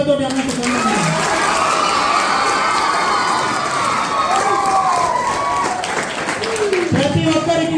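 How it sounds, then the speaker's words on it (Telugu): Cheering and applause from a school crowd at a teachers' farewell event, with children shouting and a steady wash of clapping held at a loud, constant level throughout, under intermittent talk. "ఒకసారి గట్టిగా చప్పట్లతోటి"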